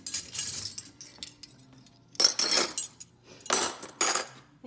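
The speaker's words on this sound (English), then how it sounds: "and put your silverware away." Metal cutlery clinks and rattles in three or four bursts as forks, knives and spoons are sorted into a kitchen drawer, close and fairly loud with short pauses between handfuls.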